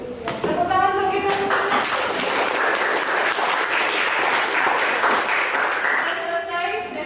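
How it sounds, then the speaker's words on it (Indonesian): A classroom group claps together in sustained, loud applause for several seconds. Brief voices come just before and just after the clapping. "Tepuk tangan untuk kita."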